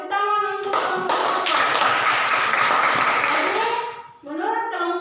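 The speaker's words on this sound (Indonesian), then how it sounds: "tepuk tangan untuk kelompok" Classroom clapping for a student group, a dense burst of many hands lasting several seconds with voices talking over and around it, fading out near the end before speech resumes.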